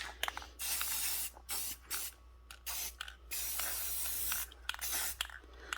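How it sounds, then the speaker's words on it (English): Aerosol spray paint hissing onto a lid for homemade Christmas tree ornaments, in several close bursts of varying length separated by short pauses, with no talking. "right now I'm just trying to spray the lid, and I'm letting it drip down the sides."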